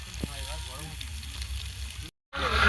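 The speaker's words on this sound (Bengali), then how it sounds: "আলু ভাজতে নিয়ে 5-10 মিনিট সময় লাগবে।" Potatoes frying in oil at an outdoor picnic cookout, a steady soft sizzle and crackle running underneath a person talking, broken by a brief dropout before the hiss returns louder.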